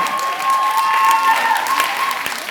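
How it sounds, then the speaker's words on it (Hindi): Audience applause at a Chennai hasya kavi sammelan, a Hindi comic poetry gathering, welcoming poet Bhagwan Makrand. Sustained, dense clapping fills the whole stretch at steady loudness, with a faint tonal hum running beneath. "एक बार शानदार तालियों के साथ भगवान मकरंद।"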